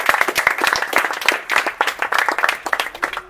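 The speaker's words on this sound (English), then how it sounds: "Give God a hand clap." A church congregation on a mission trip in Kenya claps their hands together, a dense, steady patter of many palms close by with a few voices rising through it.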